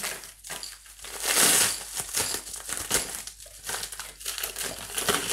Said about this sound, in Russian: Давайте распакуем и посмотрим.